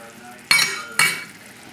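A velouté sauce is stirred in a pan, with two sharp scraping strokes of a utensil against the pan over a soft background sizzle.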